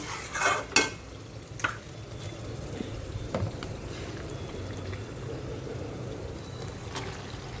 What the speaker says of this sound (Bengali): মাংসটা দিয়ে এবার আস্তে করে হিট দিয়ে কষতে থাকবো।